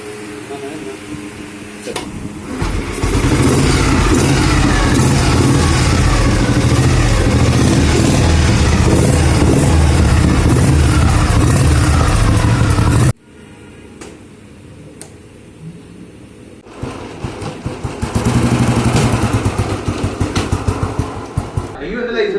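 An old motorcycle engine runs near Kozhikode beach with a loud, rapid thumping beat, cuts out abruptly, then other engine noise and voices return.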